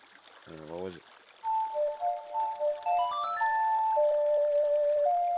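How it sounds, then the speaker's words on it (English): The Song of Time played on an ocarina in the Zelda Ocarina of Time video game, a slow sequence of clear sustained melodic notes that rises into shimmering higher tones, following a brief low sound with no talking during the melody. "That's the Song of Time."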